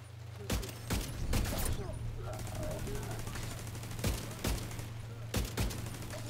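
Rapid weapon gunfire in a tactical shooter game, loud bursts of shots arriving in clusters over a steady background hum, with scattered game sounds between volleys.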